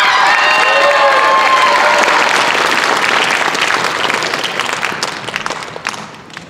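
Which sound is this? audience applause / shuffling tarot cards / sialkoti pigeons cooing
audience applause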